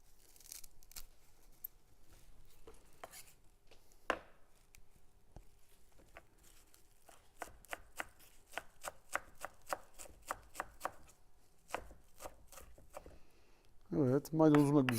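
A knife chops parsley and dill on a cutting board in a home kitchen, giving quick irregular taps and bursts of faint chopping with someone talking throughout, then louder rapid strokes at the end.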